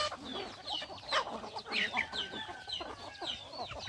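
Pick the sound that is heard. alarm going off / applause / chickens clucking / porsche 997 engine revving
chickens clucking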